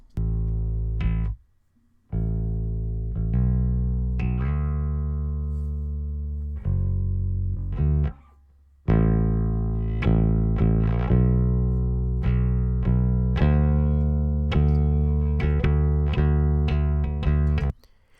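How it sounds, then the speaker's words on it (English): A round, warm bass guitar soloed out of a mix plays loud, sustained low notes in phrases with a few short pauses, with no voices. "So you can hear it's a really round sounding bass"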